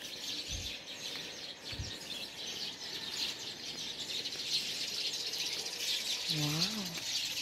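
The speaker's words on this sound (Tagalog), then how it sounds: "Ang sarap ng tinig ng mga ibon." Birds chirping and calling outdoors at a seaside dive resort in Moalboal, faint and scattered over a steady insect-like hiss, with a short rising-falling whistle near the end.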